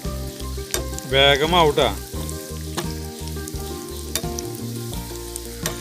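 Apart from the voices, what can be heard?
cabbage manchurian balls deep frying in oil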